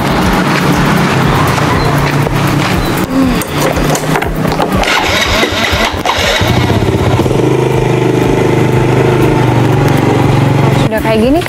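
Motorcycle engine revving and pulling away up close, loud and steady, with road noise throughout.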